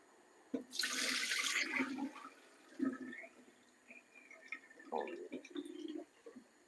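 Water poured off saltfish soaking in a bowl in a home kitchen, a splashing gush for about a second, followed by smaller trickles and pours, close and fairly quiet.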